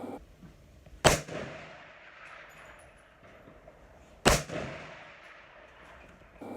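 Two loud, sharp gunshots from an SKS rifle rebored to smoothbore 366TKM, spaced about three seconds apart, each followed by a short echoing tail outdoors.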